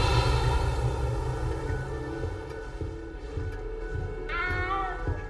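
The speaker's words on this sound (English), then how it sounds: "You don't need to be frightened, little cat." A cat in Hogwarts Legacy meows near the end, a single clear rising cry heard over a steady ambient game hum and faint background sounds.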